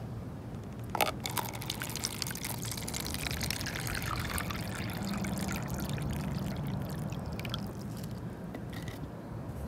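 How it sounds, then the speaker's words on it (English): A full liter of water pours steadily over a classroom landform model for a fourth-grade earth science lesson, a continuous soft trickling and splashing with no talk. "I have 1 liter of water, and we're gonna let the entire liter of water go through."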